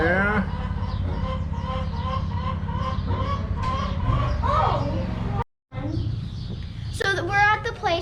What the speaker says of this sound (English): there's a chicken by you, Paul.